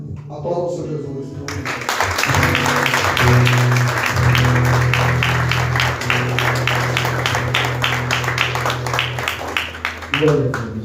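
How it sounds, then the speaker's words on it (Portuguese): A church congregation at a Portuguese-language celebration service applauds steadily for several seconds, a dense, sustained patter of many hands with a held tone and voices beneath it. "Aplauda o Senhor Jesus."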